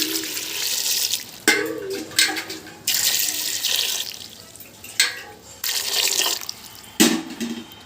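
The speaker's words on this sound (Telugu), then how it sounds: "ఈ మురికిని పార్సల్ తీసేయాలి చూడండి ఇలా శుభ్రంగా కడిగేసాం కదండి" Raw peanuts in their shells washed under a running tap in a kitchen sink, a steady splashing stream broken by several louder gushes and sloshes as the pods are rinsed, close and alone with no talk.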